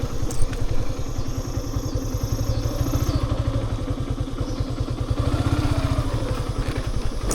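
A motorcycle engine runs close by with a steady low, pulsing throb. A higher whine drifts over it for a few seconds, and no one talks.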